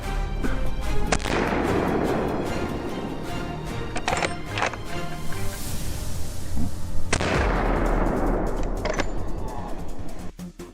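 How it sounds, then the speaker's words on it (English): Gunfire during a wild boar hunt on a cold plateau, with several sharp loud cracks spread over the clip amid busy background noise. "he pulled the trigger decisively"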